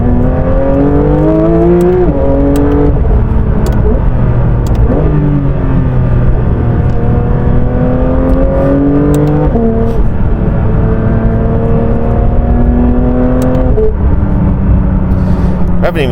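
A Porsche 992 GT3 RS in sport mode accelerates hard through several gears, its engine note climbing and dropping back at each shift. The sound is loud and steady, heard from inside the car, with some talk over it.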